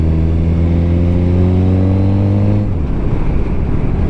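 A motorcycle engine held at a loud, steady drone with strong rising harmonics, then dropping sharply as the rider downshifts a gear or two, leaving a rougher, lower rumble; heard up close from the rider's position, with no talk.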